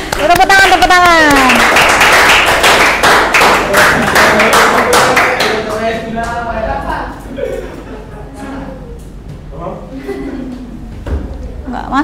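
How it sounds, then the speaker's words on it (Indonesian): A group of trainees in a classroom workshop clapping after a presentation, with loud, rapid applause at the start that thins out, overlapped by chatter and talking voices throughout. "Tepuk tangan, tepuk tangan."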